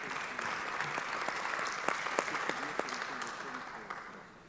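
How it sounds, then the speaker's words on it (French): Conference attendees at a pharmaceutical regulation harmonisation meeting applaud the Moroccan delegation, moderate scattered clapping in a hall under murmuring voices, fairly distant and even, tapering off at the close. "Donc, nous devons applaudir nos amis du Maroc."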